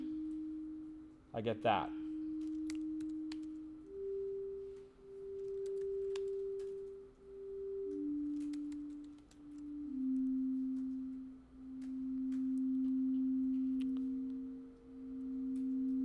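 Pure sine wave tones from a Punctual live coding session, shifted up three semitones, hold steady pitches that step between levels in long sustained swells, clean and moderately loud, with a brief spoken remark early on.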